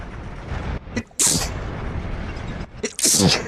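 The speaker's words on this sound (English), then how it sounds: "Gesundheit. Bless you." A person sneezes sharply twice, each a brief burst, over steady background noise while playing Dark Souls II: Scholar of the First Sin.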